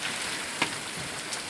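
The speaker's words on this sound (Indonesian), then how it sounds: "Hujan datang" Rain falls steadily at an outdoor fishing spot, a soft continuous patter with one sharper drop or tap standing out briefly.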